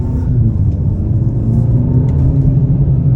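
A 2023 Hyundai Elantra N-Line engine accelerating on the road, heard from inside the cabin as a loud, steady low rumble that carries throughout without a break.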